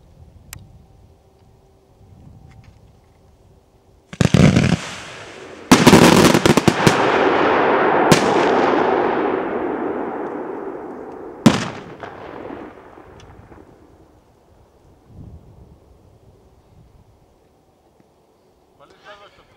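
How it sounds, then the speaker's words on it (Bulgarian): A 50-shot 1.2-inch Orange V-Shape fireworks cake with bangs: a few sharp launch thumps, then a long crackling, hissing roar of bursts with another loud bang midway, fading out slowly. "50 изстрела Orange V-Shape с гръм."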